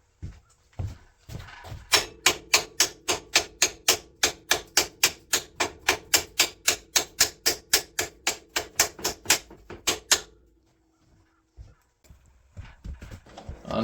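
Repeated hammer blows strike a seized part on a 2004 Polaris Sportsman 400 ATV, around thirty sharp metallic hits in a steady, fast rhythm, close and loud, then a pause and faint clatter.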